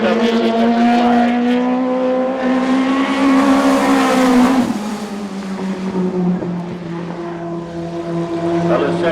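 A USAC National sprint car takes a hot lap, its loud engine screaming in rising and falling harmonic sweeps as it charges past, the pitch dropping sharply midway before climbing again.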